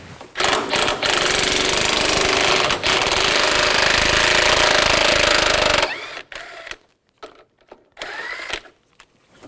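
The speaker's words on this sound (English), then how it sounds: "Take this bolt out here, use a 10mm socket" A power tool, likely an impact or air ratchet with a 10mm socket, runs loud and continuous for about six seconds while removing a bolt on a 1999-2006 Chevrolet Silverado 1500, then stops, leaving scattered clicks and handling noises.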